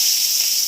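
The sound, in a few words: bay leaf sizzling in hot oil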